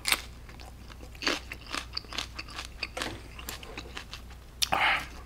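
Someone bites into a raw cucumber chili pepper close to the microphone, giving a handful of sharp crisp crunches followed by softer wet chewing, with a louder final bite near the end and no talking.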